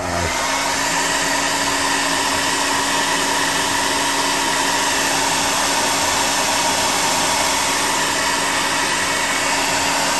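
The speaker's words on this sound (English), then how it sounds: "I'm going to hit this with a hot air gun real quick, so all this yellow is dry" A hot air gun drying yellow paint on a scrap-built tabletop game tower runs as a loud, steady, close whirring blast throughout, with no talking.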